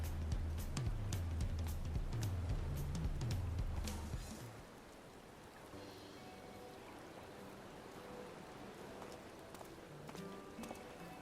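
Rain falling in the video game Final Fantasy XIV, a steady hiss of drops that carries on evenly through the whole stretch, with heavier low sound and clattering game effects over it in the first few seconds.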